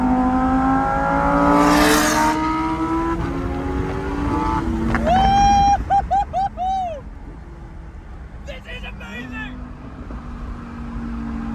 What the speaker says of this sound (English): We're having an exhaust pop-off with an Aventador.